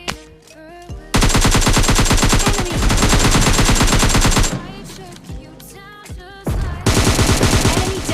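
Bursts of automatic gunfire in the mobile shooter PUBG Lite, loud and close, with rapid rattling volleys separated by brief quieter gaps and short single shots.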